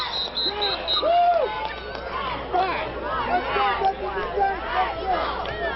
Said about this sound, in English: you can hear this crowd back into it now